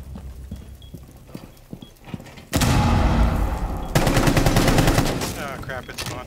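Loud bursts of rapid gunfire in Rainbow Six Siege, during a team deathmatch bomb round, break in sharply after a quieter stretch of scattered clicks and thuds, then keep going in dense, close volleys.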